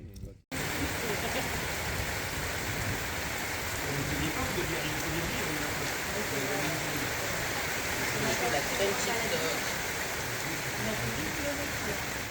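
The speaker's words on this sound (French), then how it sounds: "Ça commence à tonner, on va se prendre un violent orage, moi je vous le dis." Heavy thunderstorm rain in the Vosges pours down in a steady, dense hiss after a brief quiet start, loud and continuous for the whole stretch with no clear thunderclaps.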